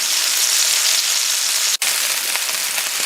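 Chicken pieces sear in a hot pan for chicken paprika with a loud, steady hiss and crackle of sizzling fat. It runs alone and is broken by one brief cut near the middle.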